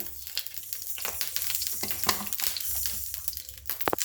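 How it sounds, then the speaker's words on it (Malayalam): Mustard seeds spluttering in hot coconut oil, a dense run of sharp pops and crackles over a steady sizzle, close and fairly loud throughout. "എണ്ണ ചൂടായിട്ടുണ്ട്, ഈ കടുക് ഇടാം."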